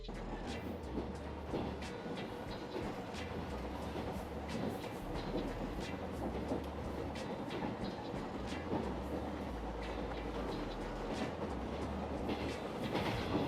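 Train running on rails in the anime Genshiken, a steady rumbling carriage interior with faint rhythmic wheel clicks, moderately quiet and continuous with no voices.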